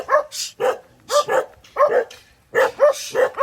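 Several dogs bark in repeated short bursts, loud and close, some yips mixed in, with brief pauses between volleys and no talking.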